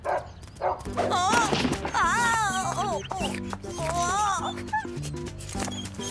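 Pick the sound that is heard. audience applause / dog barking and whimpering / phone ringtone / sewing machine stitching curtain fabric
dog barking and whimpering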